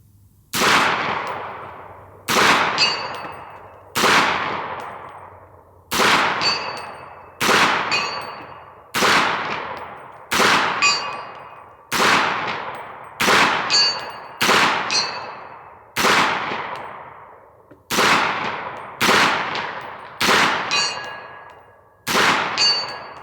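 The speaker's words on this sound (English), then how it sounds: "So let's shoot it a fair bit and see how it goes." A 300 Blackout rifle firing reloaded ammunition outdoors, fourteen sharp loud shots spaced roughly every one to two seconds, each with a ringing decay, with no talking between them.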